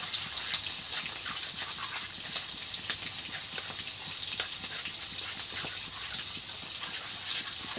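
Water is poured into a hot pan of spices with turmeric and oil for a Bengali steamed fish dish, a steady loud sizzling and gushing hiss that runs continuously without pause.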